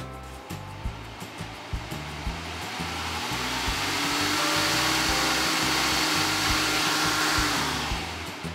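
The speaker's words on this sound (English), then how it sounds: "When the fan starts spinning up towards the end," A Dyson Hot + Cool AM05 fan running steadily, its airflow rushing in a broad hiss that swells louder through the middle and back off near the end, with a faint low rumble beneath and no voices.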